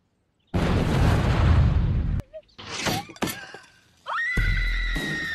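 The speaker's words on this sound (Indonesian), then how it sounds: "terbunuh oleh pembakaran barbeque yang meledak" A loud roaring explosion blast of a barbecue grill in a horror film, followed by crashing debris, a scream and chaotic noise, then a droning tone with rumbling underneath.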